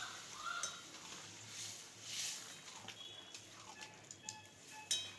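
A spoon stirring prawn malai curry masala in a pan after warm water is added, giving soft scraping and gentle sizzling with faint clinks, heard quietly and close with no talk.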